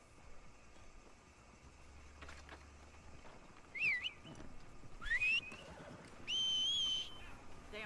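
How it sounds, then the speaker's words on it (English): A rider whistles for a horse in the Red Dead Redemption 2 game, with three short rising and falling whistles at about four, five and six-and-a-half seconds over quiet outdoor ambience. "We all whistle for a horse."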